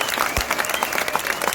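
Audience clapping together at a live music and comedy evening, a dense steady wash of applause, close and loud throughout.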